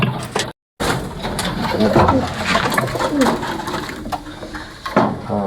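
Pigeons in a loft cooing softly under a voice, with rustling and a brief silent gap near the start.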